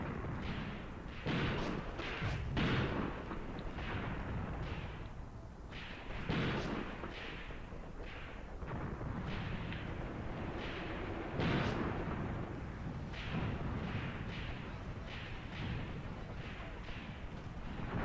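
Enemy gunfire and artillery in Graviteam Tactics, a World War II combat game: repeated booming blasts and sharp shots at irregular intervals over a constant rumbling battlefield backdrop, heavy and dense throughout.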